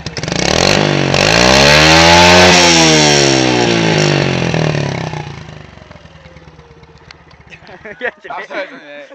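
A Honda C50 GLX moped engine with a handmade exhaust runs loud and close, its buzzing note rising and falling as it revs, then dropping off to quieter sputters at the end.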